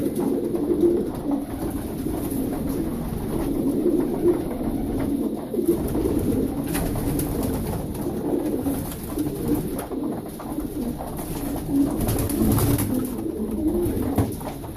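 Several sport pigeons coo softly and repeatedly nearby, low throaty calls overlapping in a continuous murmur.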